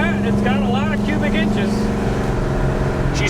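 A 1968 Chevrolet El Camino with a big-cubic-inch engine rumbles loudly and steadily at close range, a low droning idle-to-rev tone that holds throughout while people talk over it.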